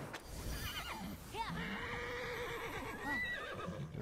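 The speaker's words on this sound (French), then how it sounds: "Mais le cheval revient." A horse in the video game Immortals Fenyx Rising neighs with a loud, wavering whinny over game background sounds, accompanied by faint hoof clip-clop, with no talk.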